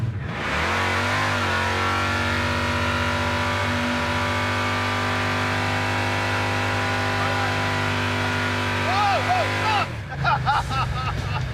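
A rebuilt 1970 Plymouth Duster drives and accelerates, its engine droning loud and steady as the pitch climbs, then cutting off sharply near the end, with people's voices heard briefly at the close.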